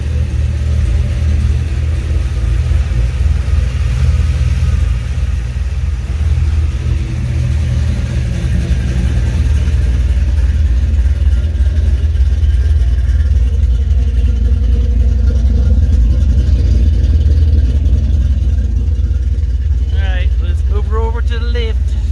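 A Chevrolet C3 Corvette engine idles in open loop, making a loud, steady, deep rumble that holds evenly throughout. A faint, brief higher sound appears near the end.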